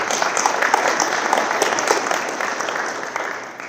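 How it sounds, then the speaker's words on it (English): An audience claps steadily through a dense, moderately loud round of applause at a community meeting about the Bachelor Complex wildfire, fading slightly at the end. "So let's get another round of applause for the work that's been done."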